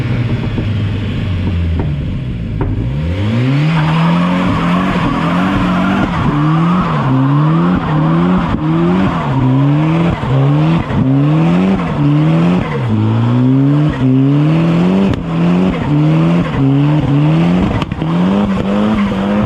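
A flame-throwing Volvo 940 Turbo runs outside, its engine revving in a steady repeating cycle of rising whoops, loud and close, continuing throughout without talk.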